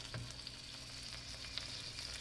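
Steak searing in a buttered cast iron skillet, giving a steady, close hiss of sizzling fat with small pops throughout.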